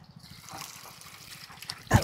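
Water pours out on a Bangladeshi street as a faint, soft trickle runs for about two seconds, ending in a short, louder splash.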